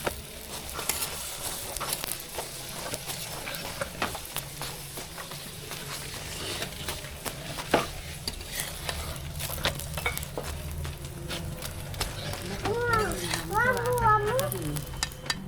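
A square paratha fries in oil in a pan with a steady sizzle, dotted with scraping and clinking from a spatula, while a voice talks over it and a voice rises near the end.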